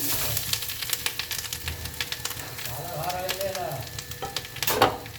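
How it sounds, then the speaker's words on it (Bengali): Grated coconut fries in hot ghee in a wok, giving a steady close crackling sizzle with stirring scrapes, and a voice speaks over it at times. "এবার নারকেলের কোনাটা আমি দিয়ে দেবো কড়াইয়ের মধ্যে"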